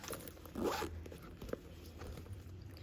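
A zipper pulled along the wall zip pocket inside a purse, one short quick zip near the start followed by faint handling noise, close and quiet.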